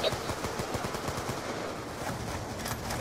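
Rapid bursts from a select-fire rifle in the video game Black Ops 2, dense fast shots in a quick steady rhythm lasting the whole stretch, loud and close.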